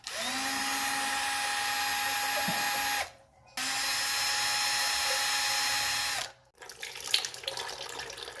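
A power screwdriver or drill spins out the transmission filter screws on a 1982 Mercedes 300D, close and loud: two steady whirring runs of about three seconds each, separated by a short pause, followed by metallic rattling and clinks.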